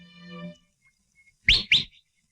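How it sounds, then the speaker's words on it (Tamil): Two short, sharp, piercing whistle blasts in quick succession, loud and close, following a brief sustained tonal sound and a quiet gap. "காலங்காத்தால விசில் அடிச்சுட்டு."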